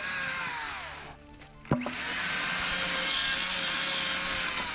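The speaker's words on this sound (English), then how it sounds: "These Makita battery powered chainsaws are brilliant." A small Makita battery-powered chainsaw whines steadily through timber, pausing briefly mid-cut with a sharp knock before resuming its buzzing drone.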